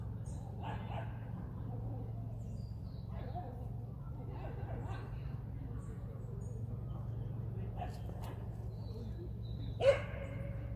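A few small dogs yap and bark in the distance, intermittent and faint, under someone talking over a steady low hum.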